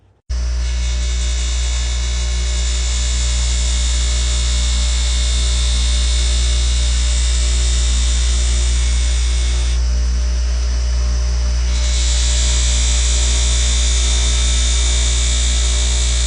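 Stitched buffing wheel spinning with polishing compound while a knife edge is held against it: a loud, steady high whine with a constant motor hum underneath, briefly changing tone partway through as the contact shifts.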